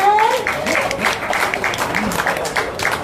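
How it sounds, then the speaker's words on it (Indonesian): Audience applause at a product launch press conference, a brief, moderately loud spell of scattered clapping from a crowd, with a presenter's voice heard alongside. "Boleh berikan tepuk tangan."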